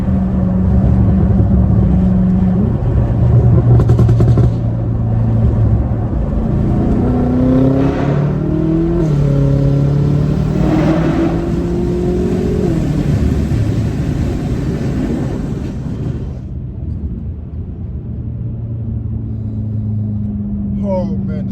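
A BMW F10 M5 on a BM3 stage 2 tune at its most aggressive settings revs loudly in several rising and falling pulls over a steady engine drone, with a voice speaking briefly partway through.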